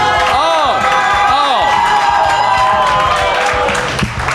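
A comedy-club audience cheers and applauds loudly, with whoops and whistles rising over a dense wash of clapping that fades slightly near the end.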